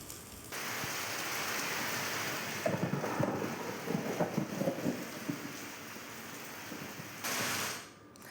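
Unseasonal heavy rain falling in Dharashiv, a continuous dense hiss of rain with a brief patch of louder drops and rumbling partway through, no voices.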